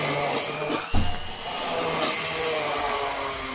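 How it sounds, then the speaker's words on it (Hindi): A blender purees vegetable soup in a kitchen, a steady loud motor roar that runs throughout with a brief bump near the start. "अब हम इसे ब्लेंडर से ब्लेंड कर देंगे"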